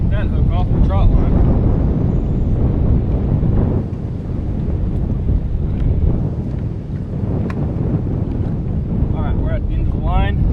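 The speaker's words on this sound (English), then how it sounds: "this wind is ripping it so fast" Strong wind rushes across the Arkansas River and buffets the microphone during trotline fishing from a boat, a steady loud broadband roar that holds for the whole stretch with brief gust swells and no break.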